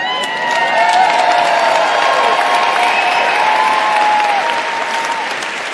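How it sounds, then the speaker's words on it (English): A large audience at a live event in London's ExCeL hall claps and cheers loudly and continuously, with whoops and shouts rising over a dense wall of applause. "So all this shouting and clapping is fine"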